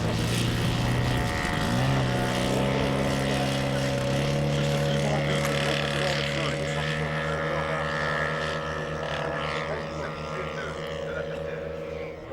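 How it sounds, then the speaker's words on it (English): Two Grumman F-3F US naval fighter model aircraft drone overhead with propeller engines, a steady buzzing whine whose pitch shifts as they pass, fairly loud and continuous throughout. "This pair of Grumman F-3F US naval fighters show how much fun can be had from flying two"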